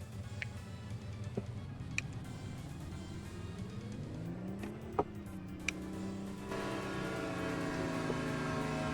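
A train passing in the trucking game American Truck Simulator, heard as a steady low rumble with a pitch that rises and falls as it goes by, over constant truck engine drone and a few faint clicks.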